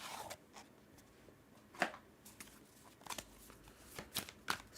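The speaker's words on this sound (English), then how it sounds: "let's pull some more cards" Tarot cards being shuffled at a reading table, a faint series of soft papery riffles and flicks coming in irregular bursts, quiet and close with no talking.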